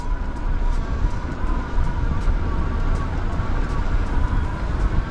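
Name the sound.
Bandit Bikes Pacer e-bike climbing a hill on throttle only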